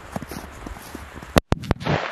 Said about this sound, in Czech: Je to naprosto obrovská petarda.